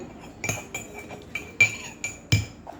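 Plates and cups clink together in a series of sharp, bright ceramic knocks at irregular intervals, close and fairly loud against a quiet room.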